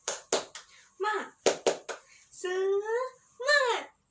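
Third-grade pupils in a classroom do a rhythmic clapping cheer led by their teacher: sharp bursts of group hand claps in quick patterns, alternating with children chanting loudly together.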